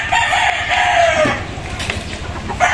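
A young gamefowl stag rooster from a game farm lets out one loud, drawn-out crow close by, trailing off into softer clucks and rustling.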